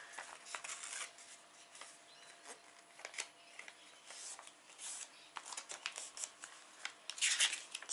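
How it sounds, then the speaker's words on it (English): Paper being folded for a homemade Lord of the Rings Lonely Mountain map, with close crisp crinkles and sharp creasing snaps coming in irregular bursts, louder near the end. "we're going to keep folding"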